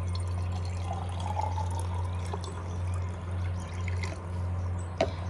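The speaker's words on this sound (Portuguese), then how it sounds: "Vou colocar a água." Water pours into a glass jar for rooting a begonia cutting, a soft continuous trickle over a steady low hum, close and fairly quiet, ending with a small clink.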